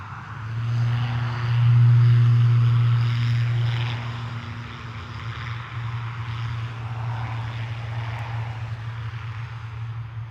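A plane roars on its takeoff run at Dublin Airport, heard from a distance as a loud, steady rumble that swells and peaks early, then holds at a lower, even drone.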